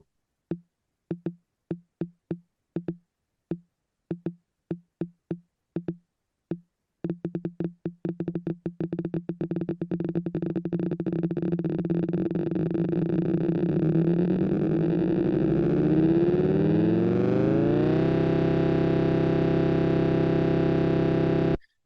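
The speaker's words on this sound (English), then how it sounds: "when it starts, it just sounds like a load of clicks, but by the end, it's a chord" Rapid clicks begin as separate, evenly spaced ticks, then speed up until they merge into a sustained, buzzy major third chord that holds steady and loud to the end.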